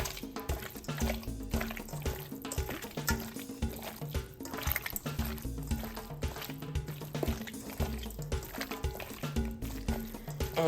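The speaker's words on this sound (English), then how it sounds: "my hands are getting a little slimy, so bear with me as I wash my hands" Running water from a kitchen tap pours over hands being washed between handling seasoned raw squid, a steady, continuous close rush of splashing that holds for the whole stretch with no talking.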